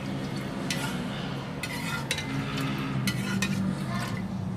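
Jelly cake mixture is stirred in a pot, with soft continuous scraping and a few sharp clinks of a utensil against the rim, quiet and close without talk.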